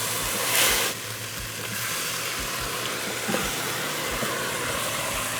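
Sherry hitting a hot pan of rice toasted in olive oil for a Lowcountry risotto, a steady bright sizzle and hiss with a louder burst early on, then simmering on evenly with faint stirring.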